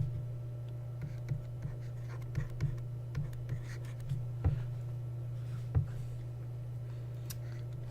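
A math problem about parabola intercepts is written out by hand, with faint scratchy strokes and light taps spread through the clip over a constant low electrical hum.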